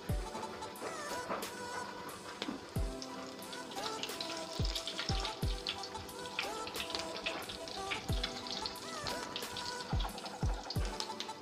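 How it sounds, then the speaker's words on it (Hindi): Chicken shami kababs frying in a pan: a steady, fairly quiet sizzle runs throughout, with occasional soft taps and thuds as the patties are moved. "यहाँ पे मैं दूसरे रख दूंगी फ्राई होने के लिए कबाब"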